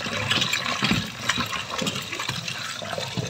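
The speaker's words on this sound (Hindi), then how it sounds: "चिकन को बहुत अच्छे से धो लेते हैं।" Raw chicken is washed under running water, a steady close splashing and trickling with irregular bursts as the pieces are rinsed and moved around.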